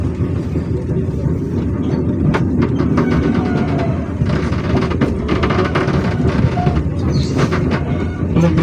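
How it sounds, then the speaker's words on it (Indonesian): Sri Tanjung passenger train pulled by a vintage locomotive, departing Wonokromo station near Surabaya, heard from inside a carriage as a steady loud rumble with rattling and clicking wheel noise throughout. "kereta api Sri Tanjung yang saya naiki sudah diizinkan berangkat kembali dari stasiun Wonokromo"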